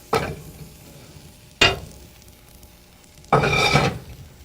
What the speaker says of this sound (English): And your hash is just cooking away, nice and brown, isn't it?